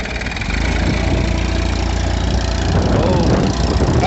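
A Massey 1035 tractor stuck in deep sand, its engine running loud and close with a steady low rumble that strains slightly as it labours.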